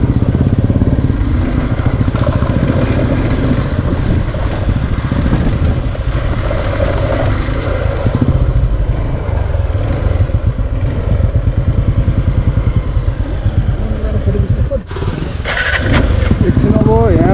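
A Honda XR 190L motorcycle being ridden gives a continuous, loud engine drone mixed with wind buffeting, then cuts out briefly near the end before the sound resumes.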